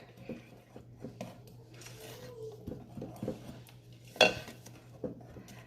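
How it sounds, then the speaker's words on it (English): Banana cake batter with vanilla essence mixed in a bowl, with soft repeated utensil taps and clinks and one sharper knock near the end, quiet and close with no speech. "Give that a little mix again."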